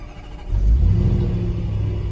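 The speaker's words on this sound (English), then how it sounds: "So what we're going to do is we're just going to start up the vehicle." Range Rover SVR engine starting up: a brief crank, then a loud, deep rumbling catch and rev that settles into a steady idle, close and alone without talk.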